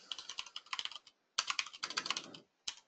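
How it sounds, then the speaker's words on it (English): Rapid typing on a computer keyboard while entering Arduino code, with bursts of crisp clicks separated by short pauses; close and clear, with no talking. "I'll go ahead and just start typing this out here"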